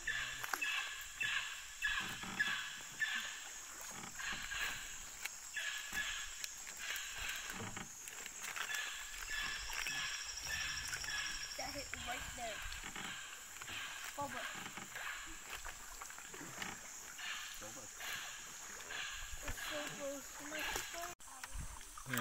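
Paddle canoe on an Amazon tributary in Yasuni National Park, Ecuador, with soft paddle strokes and water swishes under a steady wash of rainforest insects, while people talk quietly.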